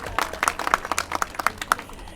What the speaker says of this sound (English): How about a round of applause for all those folks that actually built this project?